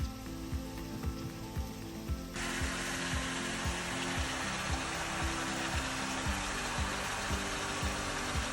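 A mixer grinder whirs as it grinds ingredients for a curry. A steady, loud motor drone swells to a fuller roar after about two seconds, with a rattling, clicking pulse underneath and no talking.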